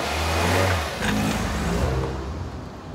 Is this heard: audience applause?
no